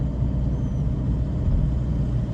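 A car slowly pulling away at the start of a driving test in Meram, a steady low engine rumble heard from inside the cabin, with no speech.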